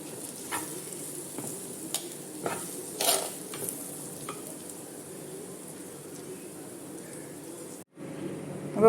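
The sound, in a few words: prawns frying and being stirred in a pan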